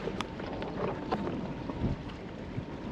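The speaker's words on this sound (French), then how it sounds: "Il y a pas mal de vent encore." Steady wind buffets the microphone on a boat at the south pass of Fakarava, a continuous rushing roar without pauses or speech.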